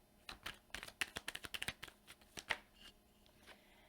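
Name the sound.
shuffling tarot cards to draw one more card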